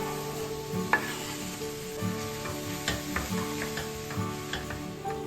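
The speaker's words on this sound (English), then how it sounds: "Let the garlic turn light brown but do not burn it. Then go sliced onion. Saute for a minute." Sliced onion and potato sauté with browned garlic in a pan, giving a steady close sizzle broken by repeated scraping stirs and small clinks at an uneven rhythm.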